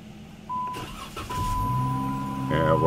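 A 2013 Dodge Challenger started by keyless push-button after key programming: a short starter crank catches into a loud, close engine idle that rises slightly at the end, with a warning chime and a brief voice.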